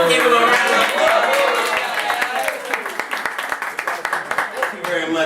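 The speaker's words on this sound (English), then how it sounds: "Give him a round of applause." An audience at a kids' science show applauds a boy named Luca, many hands clapping in a dense wash that thins into scattered claps, with cheering voices over it.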